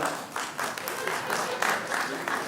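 Audience applause fills a stand-up comedy show by a comedian: a dense, steady wash of clapping that swells in waves, with talk mixed in over it.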